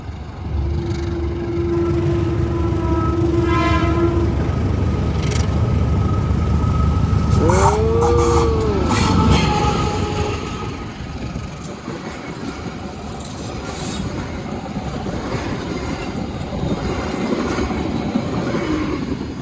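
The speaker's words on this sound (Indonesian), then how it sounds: "Oh, kereta api." A train rumbles past loudly and steadily in Padang Pariaman, wheels clattering, with a brief horn and some metallic squeal partway through before the noise eases off.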